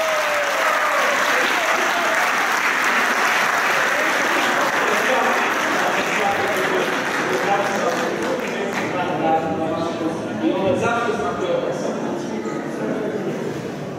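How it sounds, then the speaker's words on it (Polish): A village event audience applauds steadily and loudly for pierogi-makers, sustained crowd clapping that carries on throughout with voices murmuring beneath it. "Brawa!"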